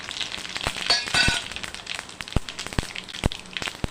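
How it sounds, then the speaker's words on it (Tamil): Mustard seeds, cumin, fenugreek, a few peppercorns and dried chillies frying in oil in a kadai for sambar, with close crackling sizzle and sharp irregular pops and spits bursting out over a continuous hiss. "கடாயில் எண்ணெய் ஊற்றிருக்கேன் கொஞ்சோண்டு நீர் சேர்த்துக்கலாம் கடுகு சீரகம் வெந்தயம் ஒரு நாலு மிளகு காஞ்ச மிளகாய்"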